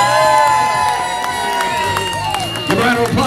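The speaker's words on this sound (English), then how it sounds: "Give a round of applause." Wedding guests cheer and clap as the bridal party is introduced, crowd whoops and shouts rising near the end over music playing in the background at a lively reception.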